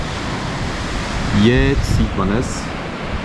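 Broad steady wash of sea surf on the cliff-lined coast at Monaco, heard from above with wind noise on the microphone, while someone talks briefly over it.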